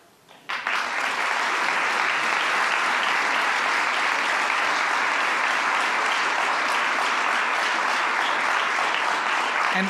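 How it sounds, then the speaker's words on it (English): Award ceremony audience breaks into loud, sustained applause after an honorary group award presentation, starting abruptly and continuing as an even, dense roar of clapping for about nine seconds. "I wish they could be here to hear your applause."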